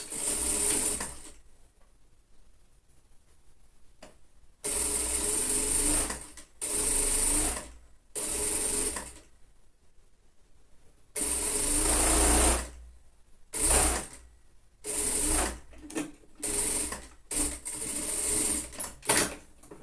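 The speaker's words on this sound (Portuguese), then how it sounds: "E agora, eu vou costurar do outro lado." Sewing machine stitching a child's lined coat, running in repeated bursts of varying length with short pauses between, steady and close with no talking.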